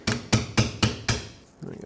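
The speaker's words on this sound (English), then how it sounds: "The easiest way to do it is with a little pry bar and a hammer or a screwdriver of some sort." Hammer striking a pry bar to open a bracket hook on a 2009-2014 Ford F-150, five sharp metallic blows in an even rhythm, close and loud, followed by a softer scrape.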